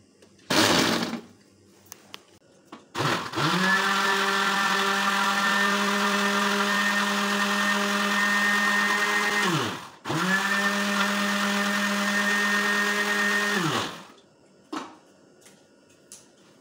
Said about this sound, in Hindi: घर में जो भी ब्लेंडर हो ना, कोई भी चीज़ बनानी हो उसके लिए ब्लेंडर ऑन कर देना